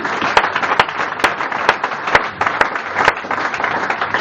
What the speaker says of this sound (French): acclamons très fort pour la parole du Seigneur